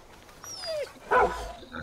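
A dog in the video game Far Cry 5 gives a short yelp and a whine after being struck, brief and mid-distance against quiet game ambience.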